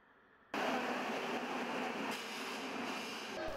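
The Penang Hill railway train suddenly starts after a moment of near quiet, a steady loud rumbling roar of rail cars rolling along, with no voices.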